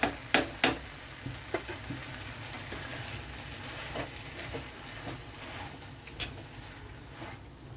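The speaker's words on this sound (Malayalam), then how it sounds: "നമുക്ക് നന്നായിട്ട് ഇനി ഒന്ന് ഇളക്കി ഒന്ന് മിക്സ് ചെയ്യാം" A Kerala-style Chinese salad is stirred and mixed with salt and sauce, producing irregular soft clicks, taps and scrapes, a few sharper knocks at the start, with no talking.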